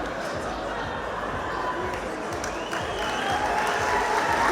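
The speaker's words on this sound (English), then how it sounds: "listen to that, it's lovely to hear the crowd giving him a great reception now" A boxing crowd applauds and cheers after a knockout, a steady wash of clapping and murmuring voices filling the arena at a moderate distance.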